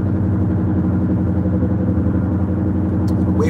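A car engine with an oil leak runs rough and steady close by, a low clattering idle throughout with no talk.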